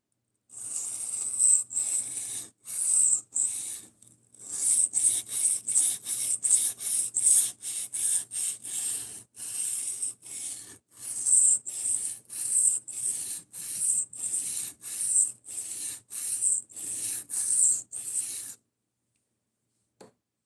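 A tanto knife is drawn across a Cheefarcuut 400 grit whetstone in steady repeated strokes, giving a close, gritty hiss with short pauses between passes and no talking.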